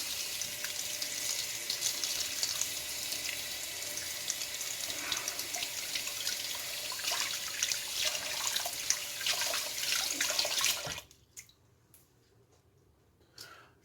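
A bathroom tap runs steadily as shave soap is rinsed off, a continuous close hiss of flowing water that cuts off abruptly near the end, leaving faint drips and small clicks.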